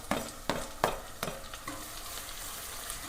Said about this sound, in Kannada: ಚೆನ್ನಾಗಿ ಫ್ರೈ ಆಗಬೇಕು ಟೊಮೆಟೊ.